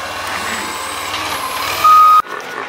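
A truck reverses with a steady, loud electronic backup beep, then lets out a short hiss of its air brakes that abruptly cuts the beeping, heard close with engine rumble underneath and no talk.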